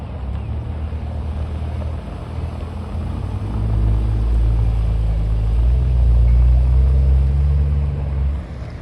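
Sports cars in Deauville, including an Audi RS4, a Mustang and a Mercedes Black Series, rumble past with a deep engine roar that swells loud and close before fading.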